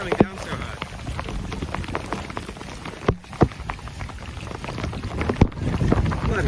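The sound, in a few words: heavy rain pouring down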